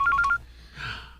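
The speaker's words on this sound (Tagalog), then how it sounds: "Nagring ang telepono mo." A telephone rings with three quick electronic beeps, then a soft breath follows in the quiet.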